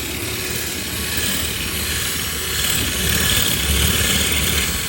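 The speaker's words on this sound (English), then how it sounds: "you probably heard the drill change tempo" Drill with a spearhead bit boring a hole in glass, heard as a steady broadband grinding whir that holds for the whole stretch and grows slightly louder toward the end, with no talking.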